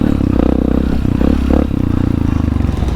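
Enduro motorcycle riding a trail site in Balungao, Pangasinan, Philippines, its engine loud and close with a rapid throbbing rhythm, brief revs and rattling clatter throughout.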